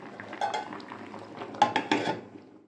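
A metal lid set on a cooking pot of boiling lentils and grains, a few close clinks and rattles in quick succession, with no speech.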